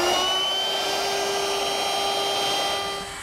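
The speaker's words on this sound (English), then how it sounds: "With a 1/4 inch radius round over bit, I'm easing the edges." A handheld router fitted with a 1/4 inch round-over bit eases the edges of an outdoor garden table, giving a steady, loud high-pitched whine with a constant tone that drops slightly at the end.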